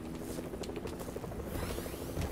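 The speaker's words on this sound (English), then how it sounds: "There's a helicopter." A Fortnite helicopter thrums steadily nearby, its rotor chop a continuous broadband churn with rhythmic pulses and no voices over it.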